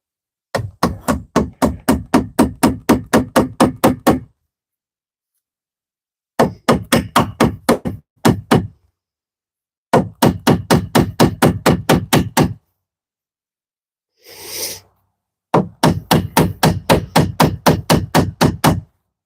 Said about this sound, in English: I'm going to hammer straight down.